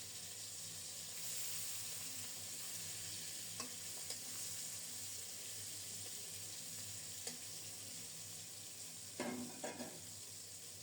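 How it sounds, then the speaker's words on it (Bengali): Rohu fish pieces fry in hot oil, a steady, moderately quiet sizzle with occasional clinks and stirring sounds from a utensil and no talk. "গরম তেলে মাছগুলো ছেড়ে দিচ্ছি"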